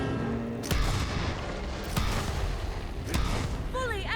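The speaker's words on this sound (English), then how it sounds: "The explosion echoed through the forest" Explosions and booming gunfire in Borderlands 3, several heavy impacts spaced about a second apart over dense game noise, ending with a faint high whine.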